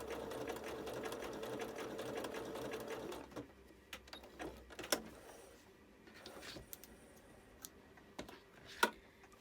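A sewing machine sews a blanket stitch with a steady mechanical whir for about four seconds, then stops, leaving quiet clicks and handling noises.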